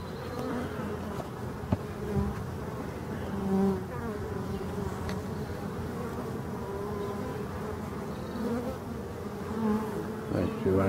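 Honeybees at a forest hive entrance during a spring nectar flow make a steady, dense buzzing swarm, moderately quiet and continuous, with occasional individual bees droning closer past the ear.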